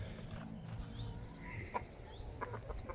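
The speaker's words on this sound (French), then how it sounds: "Ça, c'est les poules, enfin le coq," Chickens and a rooster cluck in the distance near a veranda garden, with scattered short calls and a few sharper squawks over a low rumble of background noise.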